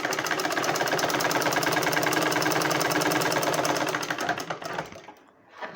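A sewing machine stitches blouse fabric with a fast, steady mechanical whir and needle clatter, close and constant, then slows and stops near the end, leaving brief quiet.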